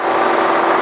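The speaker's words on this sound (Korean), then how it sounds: "엔진 소리 한번 들려드릴게요 자 엔진도 보세요" A used SUV with 80,000 km and no accident history runs with a loud, steady engine whir heard up close, brief and uninterrupted, with no voices.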